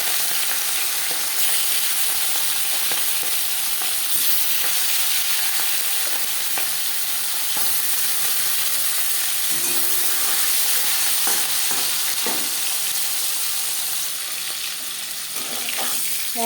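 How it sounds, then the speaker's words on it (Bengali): Marinated hilsa fish sizzles and crackles steadily in hot mustard oil and refined oil, a close, continuous frying hiss with occasional sharper spits and pops throughout. "4 চামচ সরষের তেল গরম করে নিয়েছি। এবার দিয়ে দেবো ম্যারিনেট করে রাখা মাছ।"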